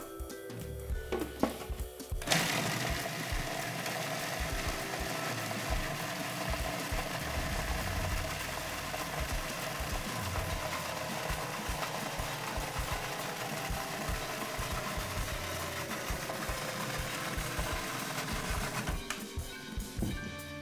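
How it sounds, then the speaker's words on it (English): A blender whirs continuously as it purees vegan pumpkin seed pesto with garlic. The steady loud motor drone runs for about sixteen seconds after a short rattly start, then cuts off near the end. "now we're just going to blend."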